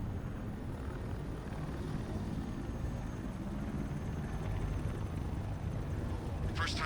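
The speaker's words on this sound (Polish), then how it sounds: "To jest ten dron." Steady whirring drone hum in Batman: Arkham Knight, a constant loud mechanical drone that holds without letup, with a brief sharp high burst right at the end.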